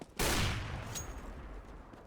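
Gunfire in the video game CS:GO, a single sharp blast with a shotgun-like boom that rings and fades over the next two seconds, fairly quiet overall.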